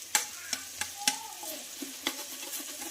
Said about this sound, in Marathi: छान हे मिक्स करून घ्यायचं आहे